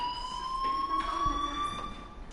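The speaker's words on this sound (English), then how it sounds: "do you hear that fire alarm?" A fire alarm rings in Life is Strange, a steady high electronic tone held throughout with faint harmonics above and a low murmur of background sound beneath, moderately loud and with no speech.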